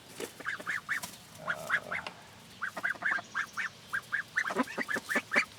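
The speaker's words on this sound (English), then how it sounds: "Sounds like they're all in their little duck coop in here." Indian Runner ducks quack inside their coop, a close, steady run of short repeated quacks in quick bursts, several birds overlapping with brief pauses between clusters.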